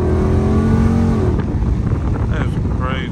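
A car with a 392 engine roars loudly and steadily at full throttle, a dense rumbling revving close to the microphone with wind noise, the engine note shifting midway.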